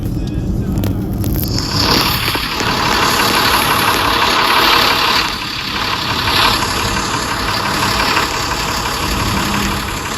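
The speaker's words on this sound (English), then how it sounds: "Let's turn the engine off." A truck engine idles steadily nearby, a constant mid-to-low drone that carries on throughout with no voices over it.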